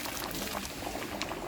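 Smoky party jollof rice cooking in a pot over a village fire, with a dense, continuous bubbling and crackling simmer that stays steady and fairly close throughout.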